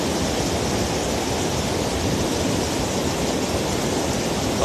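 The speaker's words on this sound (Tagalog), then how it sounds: "Lakas ng agos." A strong river current rushes continuously, a dense, even roar of turbulent water close by with no pauses or change in loudness.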